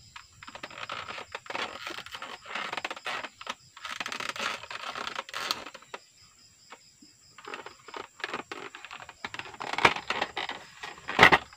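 Packaging of an Ingco heavy-duty soldering iron being opened, with irregular crinkles, taps and scratchy rustling bursts close by and short gaps between them, and no talk.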